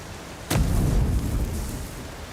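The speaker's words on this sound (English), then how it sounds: "can I throw a fire grenade at it?" A fire grenade explodes in the fantasy video game Avowed, a sudden loud boom that cuts in abruptly and then rumbles on heavily in the low end for the rest of the moment, with no voices over it.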